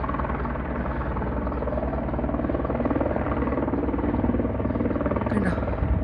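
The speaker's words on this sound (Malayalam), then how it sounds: "കണ്ടോ ഒരു ഹെലികോപ്റ്റർ പോകുന്നത് കണ്ടോ, അത് ഹെലിപ്പാഡാണേ. നാംചെ ബസാറിലെ ഹെലിപ്പാഡാണത്." Helicopter flying toward the Namche Bazaar helipad in the Everest region, a steady, loud rotor drone with a continuous throbbing buzz holding level throughout.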